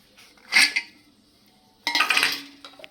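Roasted cashews are tipped into a wheat flour mix in a pan, giving two short bursts of close metallic clinking and clatter separated by a quiet pause.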